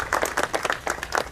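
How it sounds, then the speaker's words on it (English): Audience applause for Miss San Luis at a 2019 cultural celebration opening, a brief burst of dense, steady clapping from a nearby crowd with no talk over it. "Round of applause for Miss Arce for being here."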